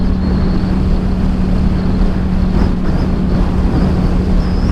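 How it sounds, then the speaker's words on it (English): Steady, loud wind roar inside a motorcycle helmet while riding a 2022 Yamaha MT-07 on a New Mexico road, a constant low rushing buffet with a faint engine drone beneath, no talking. "I hear a lot of wind inside."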